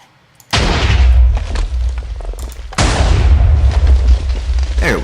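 After a brief quiet moment, a Minecraft redstone cannon fires twice, each shot a loud, close booming explosion with a deep rumble that slowly decays.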